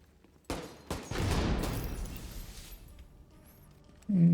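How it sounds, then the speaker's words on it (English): A single sniper rifle shot in a video game, a sharp blast followed by a rolling, echoing boom that slowly decays, with another abrupt sound cutting in at the end. "Just one shot in my sniper rifle."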